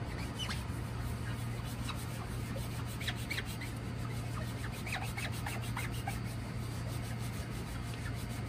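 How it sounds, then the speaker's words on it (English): Scratch remover product being rubbed by sponge onto scratched car paint, a steady soft scrubbing hiss with faint repeated swipes over a constant low hum, no talking. "I'm applying this product on the scratches."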